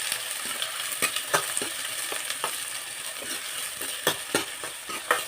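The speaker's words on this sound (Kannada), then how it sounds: "ಈರುಳ್ಳಿ ಸ್ವಲ್ಪ ಫ್ರೈ ಆಗಲಿ." Chopped onions and green chillies frying in a pan for mutton bheja fry, a soft steady sizzle broken by several sharp spatula scrapes and knocks, with nobody speaking.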